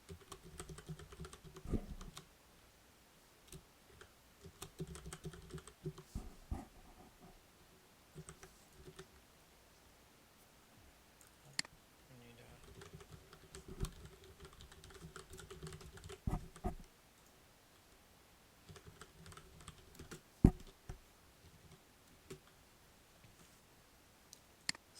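Rapid clicking keystrokes on a computer keyboard as a password is typed, coming in irregular bursts with brief pauses, close and moderately quiet over a low hum.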